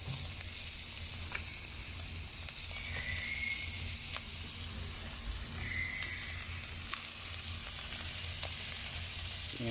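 Pork and pre-blanched instant noodles frying in a pan give a steady, even sizzle throughout, with a few faint clicks and light stirring touches and no talking.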